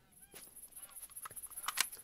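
Geese honk in theHunter: Call of the Wild, a cluster of short honks that grows busier toward the end, faint and distant over a quiet outdoor background with a high steady tone.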